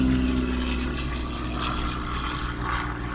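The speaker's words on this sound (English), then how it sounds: "See, a little plane flying" A small propeller plane passing overhead, heard as a steady, broad engine drone that holds at moderate loudness throughout.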